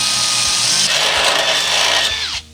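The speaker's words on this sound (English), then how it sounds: "Then we'll remove the stiffener and drill those out." A power drill bores holes through a Toyota Tacoma bed stiffener bracket, a loud, close, steady whine that runs continuously before spinning down and stopping abruptly.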